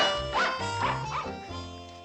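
Several dogs bark and yip close by in a lobby, three or four sharp barks in quick succession, loud over a steady background with no talking.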